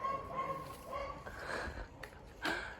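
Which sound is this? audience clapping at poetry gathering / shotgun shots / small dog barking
small dog barking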